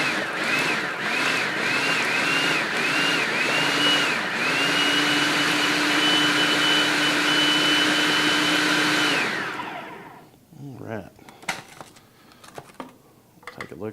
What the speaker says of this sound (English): put that into our food processor. And we're going to lock it here. And then basically we're going to pulse this until it's creamy.